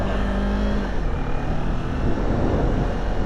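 A Kawasaki Ninja 400 motorcycle engine runs loud and close, a dense continuous roar with a fluctuating pitch as it revs, no talking over it.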